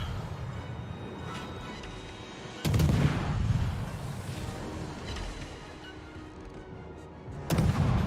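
Heavy naval gunfire in a warship video game, two booming salvos several seconds apart, each a loud, sudden blast with a long rumbling decay over steady background noise.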